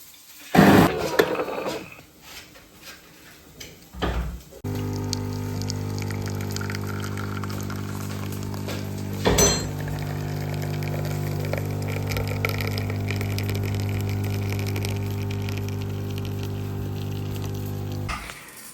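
An espresso machine pumps water for a double espresso with a steady, loud mechanical hum that starts after some handling clatter and runs continuously, broken by a brief knock midway.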